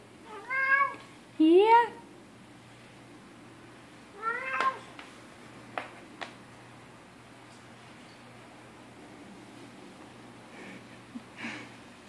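A cat meows several times, close and clear, a pair of quick meows then another after a pause, with soft rustling between.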